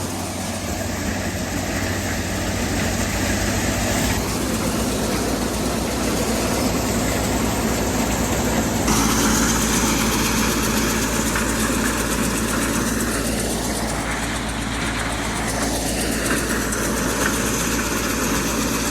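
Farm tractor engine idling loudly up close with a steady low rumble, then revving partway through as the throttle is raised, the pitch climbing, holding and settling back down.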